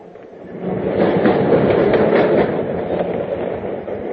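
A subway train ride sound effect from a 1946 radio drama, a steady rumbling rattle of rail cars with faint clickety-clack that swells and then holds at moderate loudness.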